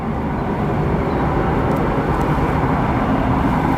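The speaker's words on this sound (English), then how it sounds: "Aer Lingus, the A330-300 that we saw arrive a little earlier, departing back to Dublin in Ireland" An Aer Lingus Airbus A330-300 departing O'Hare gives a loud, steady low jet roar that fills the whole stretch without changing, with no talking.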